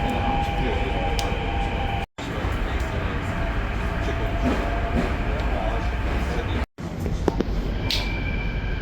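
Riding an Istanbul metro train, with a loud, steady rumble and rattle of the carriage throughout, broken by two brief dropouts, and faint voices under the noise.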